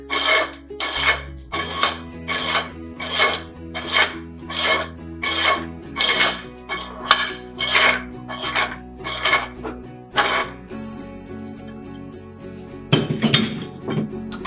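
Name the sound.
metal threaded sub being tightened onto firing head housing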